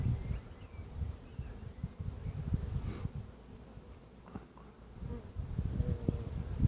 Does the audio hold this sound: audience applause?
no